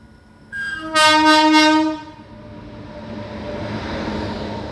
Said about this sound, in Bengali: ব্যান্ডেল লোকাল ছাড়ার টাইম হয়ে গেছে।